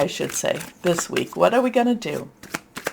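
A deck of tarot cards is shuffled with soft riffling and flutters that come in bursts beneath a woman's steady, close talking.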